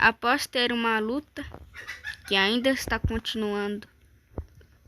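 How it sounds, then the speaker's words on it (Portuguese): Hens cluck in the background while someone narrates steadily over them, his voice dominating, before a brief quieter stretch near the end. "me desculpa pelo barulho de galinha"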